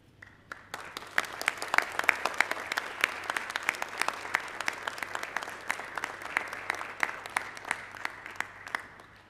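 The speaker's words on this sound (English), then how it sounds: "give their parents and teachers a round of applause for all they have done for them over the last few years" An audience at a multinational school graduation claps loudly and steadily for nine seconds in a large hall, a dense, sustained applause that swells early and then slowly fades at the end.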